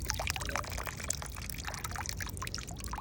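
Water pours steadily out of a hot water heater tank being flushed of sediment, a continuous splashing rush with no pauses.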